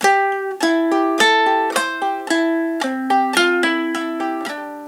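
Ukulele played clawhammer style on a folk tune, bright plucked notes and strummed chords ringing out one after another in a steady rhythm, alone without voices.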